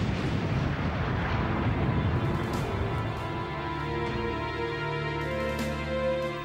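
Four tonnes of explosives detonate in a warship's bow, shattering dock lock gates: a dense, loud roaring blast rumble that fills the whole stretch, then settles into a lower sustained roar with scattered crackling bursts, no voices.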